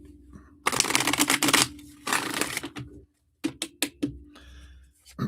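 Tarot cards are shuffled in several quick riffling bursts with short pauses between them, close and crisp.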